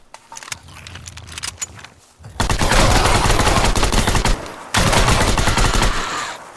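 Gunfire in the survival shooter Shattered Skies: sparse sharp shots at first, then dense sustained bursts of rapid automatic fire that pause briefly and resume, loud and close, with no talk.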